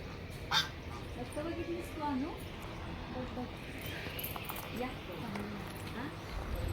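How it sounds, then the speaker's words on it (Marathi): Ducks at a farmhouse give a few short quacks amid steady outdoor background noise, with people talking and moving about nearby. "किती छान बदकेत प्राचूच्या फार्म हाऊसवर."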